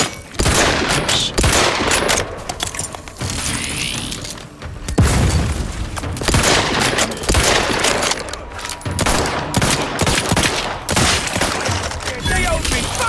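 Gunfire from the video game Outer Worlds 2, loud dense bursts of automatic fire and booms in repeated volleys through the whole stretch, with occasional faint voices under the shooting.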